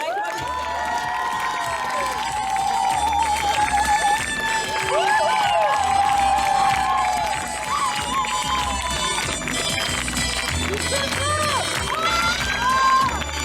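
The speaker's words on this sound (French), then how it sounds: "Applaudissez-les bien fort." A crowd at an evening fashion-show style entertainment event in Pluneret cheers and applauds, with whoops and shouts rising over a sustained loud wash of clapping, plus music-like tones and some voices.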